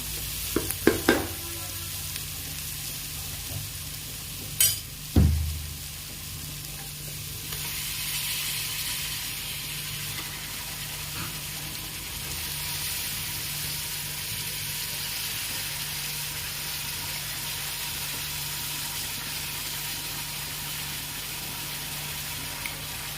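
Pieces of country chicken hit hot oil for a Tamil chicken kolambu, with a few clattering knocks early on before a steady, close frying sizzle settles in and runs on alone.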